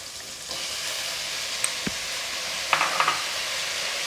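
Onion and tomato sautéing for a Tamil fish curry, a dense, even sizzle close up with a few soft spoon taps and scrapes on the pan, no one talking.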